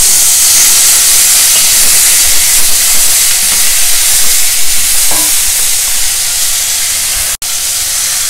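Chopped cluster beans fry in a pan with browned dals and a pinch of hing, giving a loud, close, continuous hissing sizzle with occasional stirring scrapes and a brief clunk near the end.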